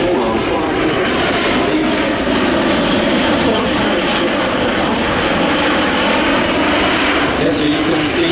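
A large military transport aircraft on a short landing roars loudly and steadily throughout, a dense, continuous engine noise at close range with no letup.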